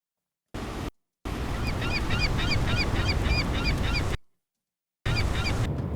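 Geese honking repeatedly over a noisy outdoor bed of wind or surf, bursts of calls cut in and out sharply between stretches of silence, moderately close and loud.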